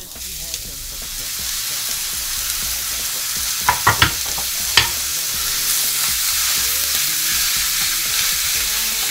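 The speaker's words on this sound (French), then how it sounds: "Alors, une fois que les oignons ont bien blondi, on rajoute la viande." Ground meat sizzles with browned onions in a pan, a loud, close, continuous frying hiss broken by a few sharp utensil clacks from stirring near the middle.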